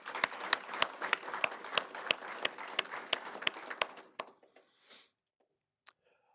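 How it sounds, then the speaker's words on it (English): An audience applauds at a school district board of education meeting, a dense patter of many hands lasting about four seconds before it thins out to a few scattered claps and then fades into quiet. "let's everyone give our students another big round of applause"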